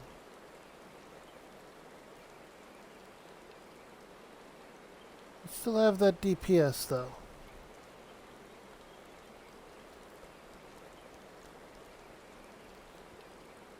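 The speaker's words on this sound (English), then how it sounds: "And now it's raining." Rain falls steadily in the video game Final Fantasy 14, a soft, even hiss throughout, and a voice speaks briefly midway over it.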